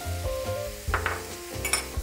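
Butter melting and sizzling in a hot pot with sliced garlic and onion for pasta, a steady close frying hiss with occasional utensil clinks and stirring scrapes against the metal.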